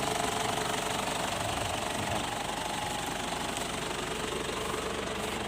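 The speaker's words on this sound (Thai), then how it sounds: "เสียงเครื่องอาจจะเข้า ในโทรศัพท์ มันจะดังนิดหนึ่ง" A car engine idles quietly, picked up close on a phone as a steady, even drone with a faint rapid pulse running unbroken throughout.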